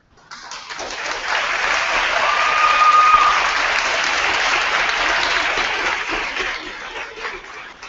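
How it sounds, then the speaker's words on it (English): Applause at a graduation convocation, as a large crowd breaks into sustained clapping that swells to a peak and holds, then slowly thins, with a few scattered chuckles mixed in. "give them a huge round of applause for what they've done"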